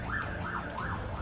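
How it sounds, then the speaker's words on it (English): An emergency vehicle siren wails outside in a steady rising and falling cycle, three sweeps coming through faintly and a little distant with no speech over it. "First stream back, and we've already got sirens."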